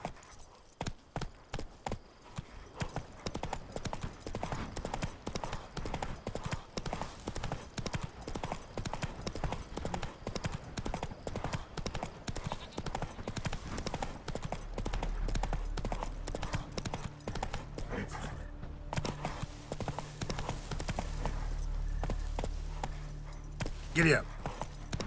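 Horse hooves clip-clopping steadily in The Witcher 3, a rapid rhythmic run of hoofbeats close by across the whole stretch, with a low musical drone joining in the latter half.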